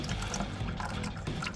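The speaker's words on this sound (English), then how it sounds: "it totally drains the bucket" Water draining through a siphon out of a Dutch bucket in a homemade aquaponic system, a steady close gurgling and splashing flow with no talk.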